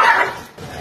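A dog lets out a single short, loud bark up close at a rooster, then stays briefly quiet.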